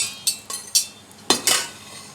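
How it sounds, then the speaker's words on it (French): Lemon juice and melted butter being mixed with eggs and sugar in a bowl for a lemon tart, giving a handful of sharp, irregular utensil clinks against the bowl, close and clear with no talking. "que l'on mélange avec les œufs et le sucre"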